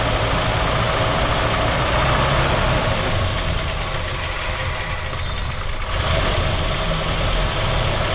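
A 1967 Ford Galaxie 500 engine idles steadily and loudly up close, with a rough, knocking rumble that dips briefly near the middle and then returns to full strength.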